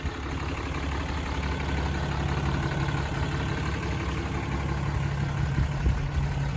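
A 2015 Ram 3500 SLT pickup's 6.7-liter turbo diesel idles in a steady, even rumble with a faint higher whine on top, close by and unbroken for the whole stretch.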